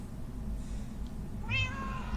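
A cat meows once near the middle of a clip of in-game Minecraft-style sounds, a rising tonal cry over a steady low rumble of background noise, with no talking.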